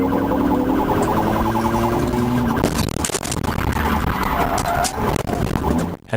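A police siren wails in loud rising and falling tones over engine roar and road noise during a high-speed chase in Florida, with sharp clattering bursts partway through.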